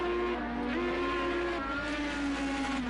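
IndyCar race cars in Project IndyCar, with a steady high engine whine in rising and shifting tones as the cars drive through the S-curves, one close engine sustained alone throughout.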